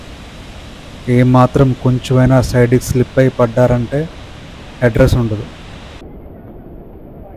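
Rushing water at Nanemachi waterfalls pours in a loud, continuous broadband roar, close by, with a person talking over it for several seconds.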